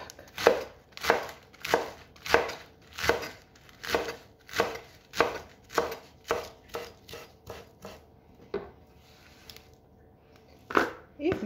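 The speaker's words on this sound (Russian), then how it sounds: "нарезаю листья салата на не мелкие, не крупные" A knife chops lettuce leaves steadily on a cutting board, about a dozen crisp, evenly spaced strokes close up, then a pause and a couple more cuts.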